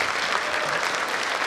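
An audience applauds at a Christmas carol concert, dense steady clapping from a crowd that fills the whole moment without a break.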